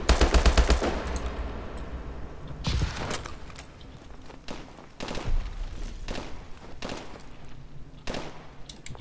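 Video game gunfire from Call of Duty Advanced Warfare: a rapid automatic burst opens, followed by scattered loud single shots and thuds at irregular intervals, close and punchy, with little speech.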